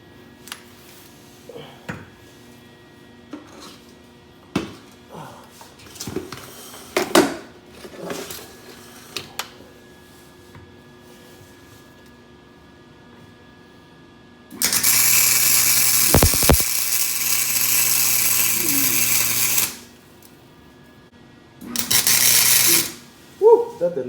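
Flux-core welding on a motor mount plate, two bursts of loud, harsh, steady crackling buzz lasting several seconds each, preceded by scattered clanks and handling noises.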